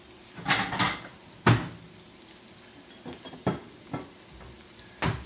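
An egg seasoned with salt and pepper fries in a pan with the heat turned off, a soft sizzle running under intermittent scrapes and clinks of a utensil against the pan.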